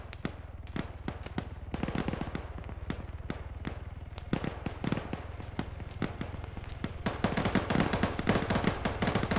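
Rapid gunfire in the military video game Arma 3 during a joint operation, sharp repeated shots in irregular bursts, some close and loud, others more distant, intensifying toward the end.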